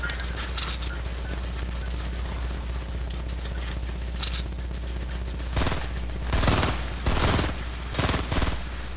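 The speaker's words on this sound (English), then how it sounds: "they're shooting" Bursts of gunfire in the Fortnite Battle Royale video game, sharp crackling volleys that grow louder and denser toward the end over a steady background rumble.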